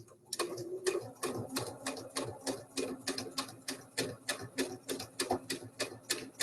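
A sewing machine stitches a double welt pocket, running a few stitches forward, a few backward, then forward again. The needle clatters in a rapid, steady rhythm, close and clear, with no talking.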